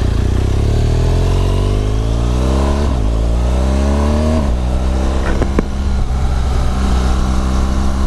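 A 2018 BMW R1200GS Rallye boxer-twin motorcycle starts and pulls away in first gear, the loud close engine note rising in pitch as it revs up, dipping at the shift point and climbing again.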